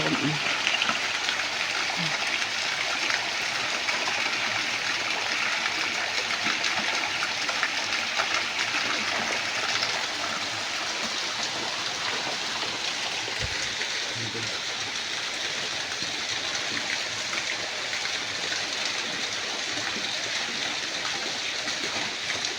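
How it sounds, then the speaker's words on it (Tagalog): A small waterfall outdoors, with steady rushing water that runs throughout while a person talks now and then over it. "Falls na maliit."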